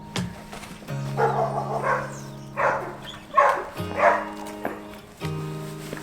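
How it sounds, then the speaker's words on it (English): Several dogs bark in bursts at a moderate distance, angry and repeated, with a steady low hum running underneath. "Clearly got some dogs over there that do not like Frankie."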